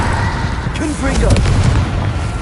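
Hogwarts Legacy's Confringo spell blasting during a duel: continuous heavy booms and rumbling explosions with scattered sharp pops and swooping magical tones, loud and close throughout.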